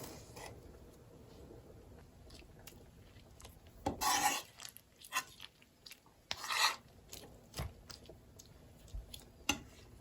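A tomato is chopped and crushed with the side of a knife on a board, heard as scattered scraping, squishing and knocking sounds with a couple of louder rasping crushes, close and irregular, with no talking.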